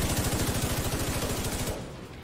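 Automatic gunfire in the video game The Division 2, a rapid loud burst of evenly spaced shots that stops abruptly near the end, with no talk.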